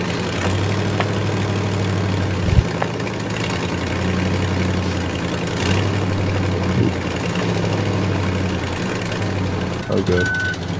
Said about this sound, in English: there's another truck up here. The OG race trucks.